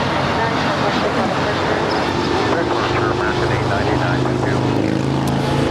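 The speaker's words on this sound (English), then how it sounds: "A321 Neo departing to Phoenix" American Airlines A321neo airliner departing LAX for Phoenix, a loud continuous jet engine roar filling the scene, with someone talking over it throughout.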